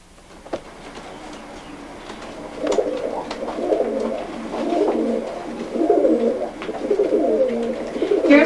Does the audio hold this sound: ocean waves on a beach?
no